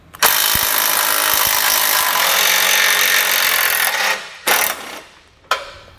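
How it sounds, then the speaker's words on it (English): Close, steady ratcheting and rubbing as a 13 mm socket on a ratchet backs out bolts on the outside of a 2009 Ford Escape bumper beam; the sound holds continuously for several seconds, then breaks into two short bursts, with no talk. "We're going to remove each of these using a 13 millimeter socket."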